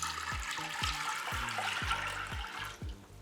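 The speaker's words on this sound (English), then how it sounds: "Add your beans to a heavy bottom pot and then cover with water." Water pours steadily over dry beans into a heavy-bottomed pot, a continuous splashing rush that holds for the whole stretch, with a few soft low knocks beneath it.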